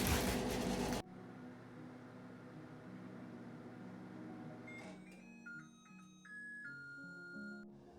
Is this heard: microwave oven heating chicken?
yes